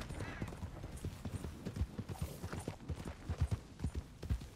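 Horse hooves clop in a steady, quick rhythm on the ground in a Red Dead Redemption 2 game scene near a burning barn, loud and close with background rumble.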